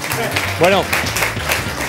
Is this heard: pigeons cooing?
no